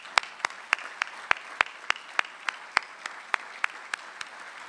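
Audience applauding local chamber board members and CEOs at an economic summit, heard as a thin, sparse patter of hands with individual claps standing out at a steady pace, moderately faint and without talk.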